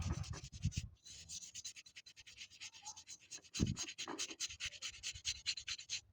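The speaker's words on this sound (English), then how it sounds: "A little bit of rust is here. See if we can get that out." Steady rubbing and scrubbing on an old dug glass bottle to clear rust, a close, continuous rhythmic scraping with a few louder knocks, no voices.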